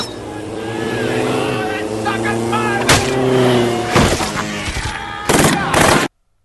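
Gunfire in the zombie film Land of the Dead sounds as sharp loud bursts cutting through a sustained engine roar and tonal score, with voices present and a sudden cutoff at the end.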